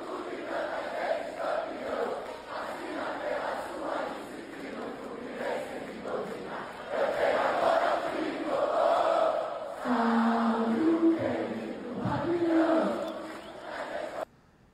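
Fluminense fans celebrate a Libertadores title at Laranjeiras, a distant crowd chanting and roaring in swelling waves, with a voice speaking over the cheering near the end.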